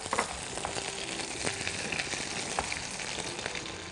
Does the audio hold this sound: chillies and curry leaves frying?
yes